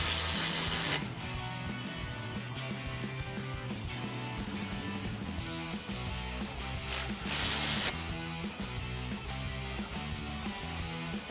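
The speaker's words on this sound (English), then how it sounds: "we'll tighten these back down with our 12 mil socket." A 12 mm socket ratchet tightens nuts during a coil-over install on a 1994-2004 Mustang GT, giving a continuous close clicking ratchet with metallic rubbing, steady and fairly loud throughout.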